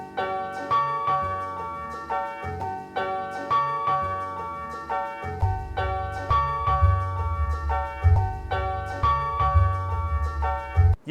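A looped piano sample from a hip hop track repeats in a steady rhythmic cycle of bright chords, with a deep bass line entering halfway through, clear and fairly loud with no voices.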